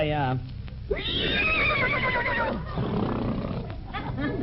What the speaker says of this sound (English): What are you talking about? That's a horse.